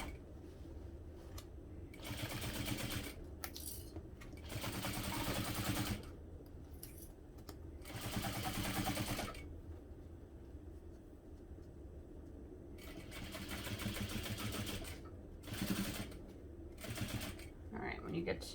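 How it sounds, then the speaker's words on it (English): Sewing machine stitching an all-vinyl bag in several separate bursts of rapid clattering, with quiet gaps between runs, close by and moderately loud. "you'll stop sewing right at that mark and back stitch"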